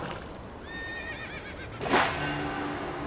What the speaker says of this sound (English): That's a pretty horse.